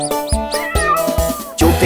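Cartoon cat meows in a children's animated program, three or four short rising-falling meows in quick succession, close and loud, followed by a brighter burst of music at the end.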